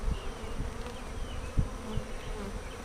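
Honey bees buzz steadily around an open hive full of nectar-filled comb, a dense, continuous drone close by with a few louder passes near the microphone and no talking.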